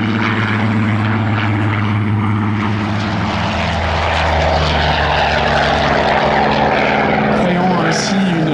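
Warbird propeller aircraft flying at an air show, a loud steady droning engine with a deep pulsing throb that swells slightly as it passes, under someone narrating in French.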